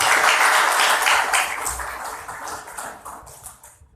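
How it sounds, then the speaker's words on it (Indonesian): Audience applause at an evening gathering, a dense run of clapping from many hands that starts loud and gradually thins and fades over four seconds. "Tepuk tangan Bapak sekalian."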